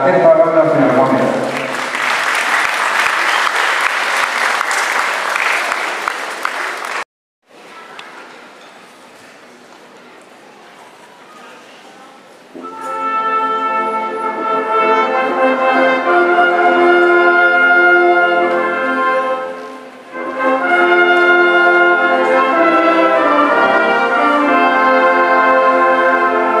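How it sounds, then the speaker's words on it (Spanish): A crowd applauds a philharmonic band at a band audition in Yaganiza 2024: dense clapping for about seven seconds, a brief hush, then the band starts playing sustained tonal music that continues to the end. "Fuertes los aplausos para esta banda filarmónica."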